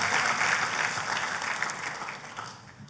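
A church congregation applauds in a steady, dense patter of clapping that slowly thins out toward the end, with no voices over it.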